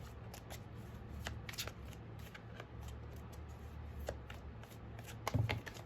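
A pile of tarot cards being shuffled by hand, quiet repeated riffling and flicking bursts in an irregular rhythm, close by with no talking.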